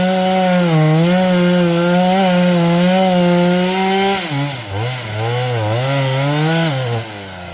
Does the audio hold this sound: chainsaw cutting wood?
yes